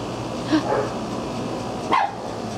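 Small dogs yip and bark a couple of times at a poolside gathering, two short bursts standing out over a steady background hum.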